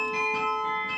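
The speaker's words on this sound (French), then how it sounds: "le Beffroi de Bergues peut enfin faire résonner ses 50 cloches" Carillon bells of the 47-metre Bergues belfry, a set of 50 bells, ring out in sustained overlapping tones, resonant and steady throughout with no voices.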